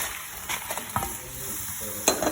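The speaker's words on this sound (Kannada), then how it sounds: "ಚೂರು ಫ್ರೈ ಮಾಡ್ಪುಗ" Spices fry in a pan for chicken curry, a soft, faint sizzle broken by a few sharp scrapes and clinks of the spoon against the pan.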